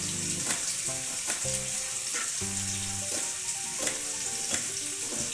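Potatoes frying in a pan for a Bengali chichinga jhal, giving a continuous bright sizzle with occasional stirring clatters, while faint tonal background music plays underneath.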